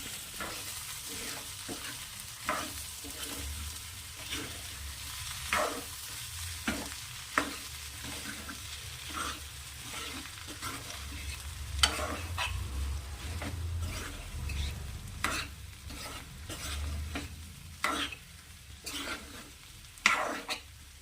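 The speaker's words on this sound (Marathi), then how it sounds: "आता डाळ ऍड करू आम्ही हे तुरीची डाळ आहे मिक्स करून घ्यायचं छान" Toor dal mixed with vegetables stirred and fried in a pan, a quiet continuous sizzle broken by repeated rhythmic spatula scrapes and taps against the pan, close and steady.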